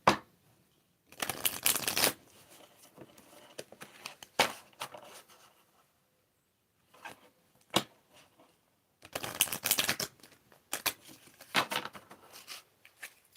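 Oracle cards are shuffled by hand in several separate bursts of crisp riffling and flicking, with short pauses and near-silence between them, close and fairly quiet, with no talking.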